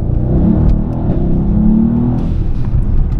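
Mercedes E63S engine with a Blackboost CPC tune, a loud close deep rumbling idle with a slight rev rise, steady throughout.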